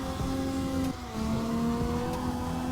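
Steady engine drone of a Kitsune drift car in CarX Drift Racing 2, held in a high rev range with a brief dip and pitch shift as it holds a drift, no talking.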